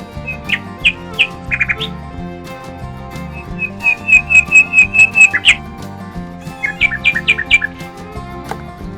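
A toy parrot squawks and whistles in short repeated bursts, bright chirpy calls in quick runs over a quiet musical backing, close by.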